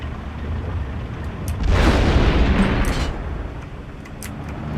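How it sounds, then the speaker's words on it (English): Heavy 150mm artillery guns fire in a war video game, a deep rumbling boom swelling over a steady low battle din and fading slowly, with faint sharp pops in the background. "Right, so the artillery guns, 150mm."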